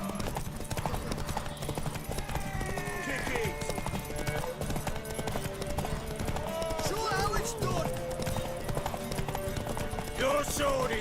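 Continuous galloping hooves of a horse racing in The Witcher 3, steady clip-clop running throughout under game ambience and occasional spoken lines.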